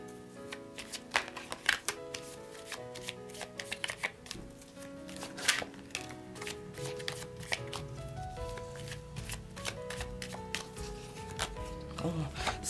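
Tarot cards shuffled by hand, a quick run of crisp riffling slaps and flutters, close and fairly quiet, alone without talk.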